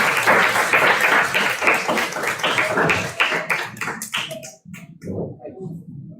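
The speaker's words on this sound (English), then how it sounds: "welcome Sir with a round of applause" Audience applause welcomes a lecturer at a research methodology workshop: dense, steady clapping from a room full of people, fading into scattered claps near the end.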